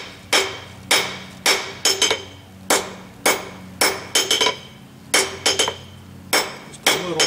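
A blacksmith hammers the end of a tong bit to taper it, with loud ringing metallic blows in irregular rhythm, often single strikes and sometimes quick doubles, each followed by a short ring.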